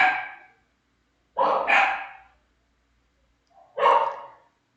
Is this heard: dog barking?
yes